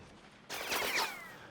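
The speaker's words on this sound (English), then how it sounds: "3 members of the 2nd felled with a cannon shot" A cannon shot booms across a Napoleonic Wars line battle, a sudden loud blast followed by a rolling, crackling tail of distant musketry that fades over a second.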